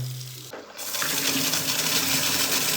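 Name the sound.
water running and leaking from a damaged plastic pipe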